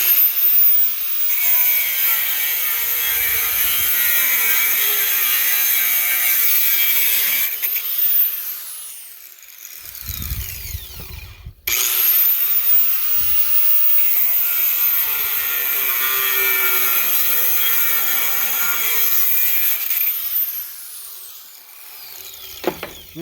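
An abrasive cutting wheel grinds through steel for a snow plow build, a steady high-pitched whine running long and loud, briefly dropping off midway before resuming for a second long cut.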